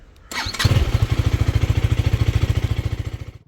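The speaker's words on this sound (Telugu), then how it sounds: "సో స్టార్ట్ చేసి పెడదాం బండి అయితే. ఇంజన్ వామప్ అని అవుతుంది ఈలోపు." A motorcycle on a South India road trip is started close by: a brief starter whir, then the engine catches and settles into a loud, fast, even idle with a steady rhythmic thump as it warms up.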